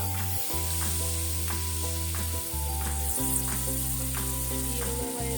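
Water splashed into spice paste frying in a pan for a Bengali niramish dhokar dalna, making a loud, steady sizzle close by with some stirring and a background hum, and no talking.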